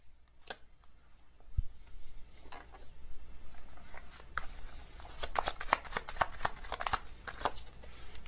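Tarot cards are flipped and handled close up, giving soft papery slides, taps and flicks that come in irregular clusters, thickening toward the end over a quiet room tone.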